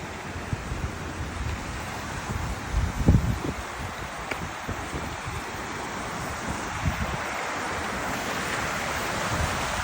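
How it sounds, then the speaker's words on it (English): River rapids rushing on a sunny nature walk, a continuous broad wash of water noise heard from nearby, with wind gusts and a few soft knocks and rustles on top. "We're going to the rapids."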